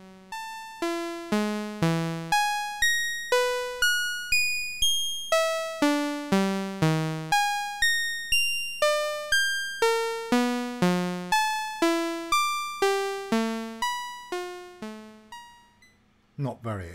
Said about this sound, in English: that very familiar basic output of the Turing machine